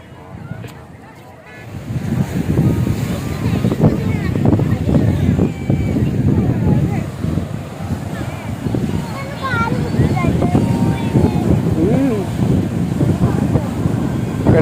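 Waves and gusty wind roar on crowded Ponnani beach near the main lighthouse, a heavy low rumble that fills the scene, with voices faintly underneath.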